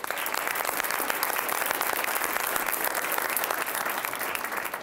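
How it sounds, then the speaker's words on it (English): A crowd claps steadily and loudly throughout, a dense, even wash of applause with no voices standing out. "Please give all of our sponsors a loud round of applause."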